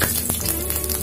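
Half a teaspoon of cumin seeds sizzles in two spoons of hot oil for kachori, a dense, even hiss heard close up.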